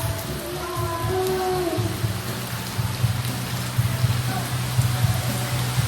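Heavy rain from Super Typhoon Rai on Siargao Island pours steadily through a damaged house roof with dense patter and drips, a low rumbling roar underneath, constant and close.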